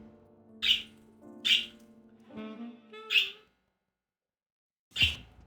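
Four sharp bird squawks in the video game Wizard of Legend, three in quick succession and one after a short silence, layered over tonal game music and hum, with no talking.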